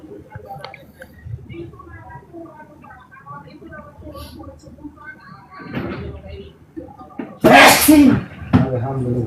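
A single loud, sharp sneeze bursts out in a room during a gathering, rising above a murmur of background voices and followed shortly by another brief noise.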